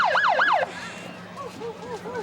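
At a town's summer parade, a vehicle siren wails in quick rising and falling sweeps, then cuts out and gives way to softer repeated chirps in the street.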